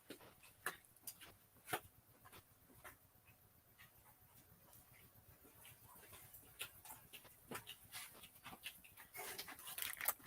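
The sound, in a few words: dog getting restless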